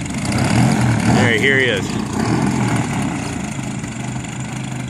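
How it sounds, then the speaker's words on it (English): A 42% Hyperlite Slick 540 giant-scale model airplane engine runs steadily nearby on ES pipes, a loud continuous drone throughout, with someone briefly talking over it. "Got the motor working so well on the ES pipes."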